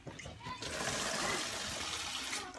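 Water is poured into a container while preparing feed mixed with dextrose, giving a quiet, continuous splashing trickle that lasts a couple of seconds.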